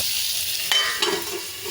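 Ivy gourd frying in a little oil, a brief close hiss with a couple of quick stirring clinks, no voices.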